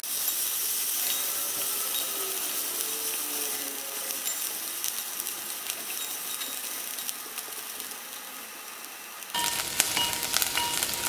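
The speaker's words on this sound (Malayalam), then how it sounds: "ഇതെല്ലാം കൂടിയിട്ടൊന്ന് വഴറ്റിയെടുക്കാം." Cashews, onion and ginger sautéing in a pan, a dense, even hiss of sizzling close up that thins slightly before a sudden louder, crackling surge near the end, with no talking.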